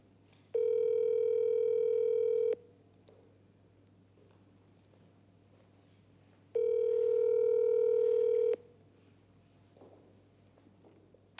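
A Telegram call rings out unanswered, sounding as two steady electronic ringback tones of about two seconds each, separated by a long quiet gap, over a faint low hum.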